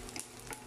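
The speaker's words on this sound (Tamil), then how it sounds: "இப்போ வெங்காயம் வதங்கிடுச்சு" Onions sizzle and fry in a pan while being stirred for a Tamil home-cooked dish, a short, close, steady sizzle with light scraping and no talk.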